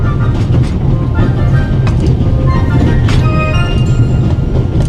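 A moving train in the video game The Raven gives a steady loud rumble with a low drone, faint clattering wheels and occasional metallic clicks, continuous and close throughout with no talk.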